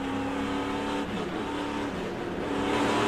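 An SRX Series race car engine roars at high speed at Stafford during a race, a loud sustained whine with shifting pitch, no voices.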